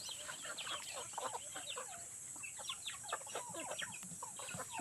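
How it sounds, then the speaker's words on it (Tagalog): Many chickens cluck and chatter together in a farmyard, a busy overlapping flurry of short clucks at moderate distance, fairly quiet with a faint steady hiss behind. "ang dami pong manok"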